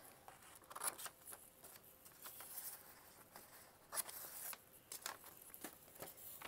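Scissors snip through an old atlas page, a series of small, quiet crisp cuts in an uneven rhythm, close up in a quiet room.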